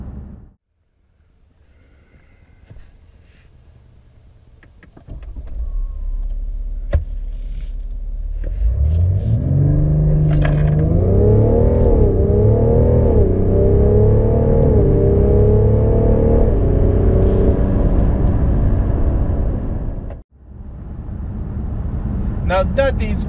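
A 2019 BMW M550d xDrive with its quad-turbo diesel accelerating hard to 100 km/h, engine rumble rising through a series of gear shifts into a loud, strained drone before a brief cut and resumption.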